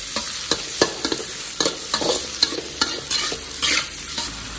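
Glutinous rice stir-fried with corn, carrot and sweet peas in a wok: loud, busy spatula scraping and tossing in a steady rhythm over a continuous close sizzle.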